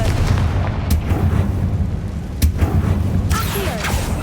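Fiery blast from a Confringo spell in the Hogwarts Legacy video game: short booming bursts with a sharp crack near 2.4 seconds, over a steady low rumble of game ambience.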